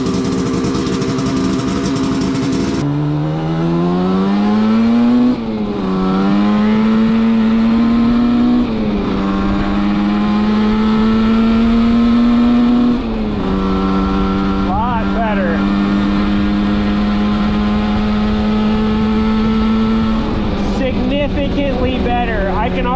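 A Yamaha HS1 motorcycle with exhaust baffles fitted, ridden down a street, its engine note rising and falling through several gear changes, loud and close, with someone talking over it.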